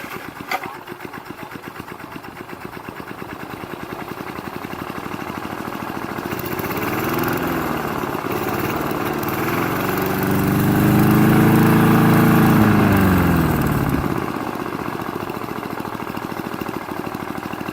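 An old Briggs and Stratton small engine running steadily, its drone rising and swelling in pitch midway before settling back, loud and alone with no talk.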